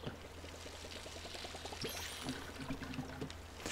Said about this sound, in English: Water the trees. There we go. Water the trees.